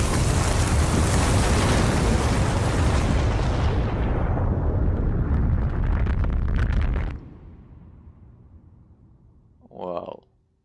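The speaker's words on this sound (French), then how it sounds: "ça c'est de l'explosion" Huge explosion in the Beyond Two Souls video game: a loud sustained roaring blast that rumbles for several seconds, then cuts off, followed by a brief vocal exclamation.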